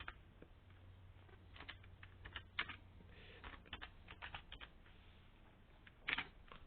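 Light typing on a computer keyboard goes on throughout, with quick irregular clicks and short flurries of keystrokes over a faint low hum. No one speaks.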